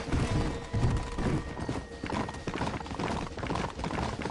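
Horses galloping through an alleyway in the Red Dead Redemption video game, with rapid clip-clop hoofbeats drumming continuously under a rumbling game soundtrack, fairly loud and close throughout.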